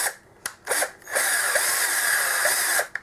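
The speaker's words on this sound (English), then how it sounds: "bring in the drill, and just ease that in and out through here." A power drill with a 5mm bit eases slowly in and out through a drilled hole, a loud steady whine after a few short bursts, close by with no talk.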